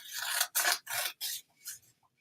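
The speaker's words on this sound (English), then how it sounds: "And then cut out the key down at the bottom." Scissors cut through paper pieces close up, five bright rasping snips in a row, each briefer and quieter than the one before.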